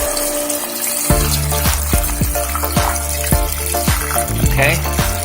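Broth for mì Quảng being poured into a pot, a close continuous liquid gush and splash with rhythmic glugging pulses roughly every half second, under a low background hum.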